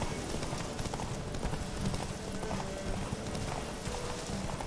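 Roach the horse gallops in The Witcher 3, a fast steady drumming of hooves close by over a dense, busy game soundscape, with no one speaking.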